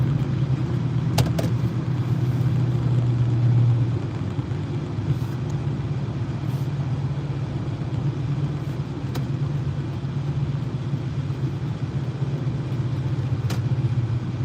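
Steady low engine rumble of cars in road traffic fills the scene continuously, close and fairly loud, with a few faint clicks over it and no talking.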